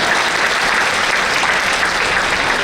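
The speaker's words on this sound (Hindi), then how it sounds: "मैं चाहता हूं कि एक बार जोरदार तालियों से आप उनका स्वागत करें।" An audience at a women's achievement awards ceremony bursts into loud, sustained applause, a dense and steady wash of clapping that runs the whole time with no letup.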